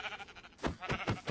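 A pink sheep in Minecraft gives a short series of bleats that come in quick pulses, moderately loud over quiet game ambience.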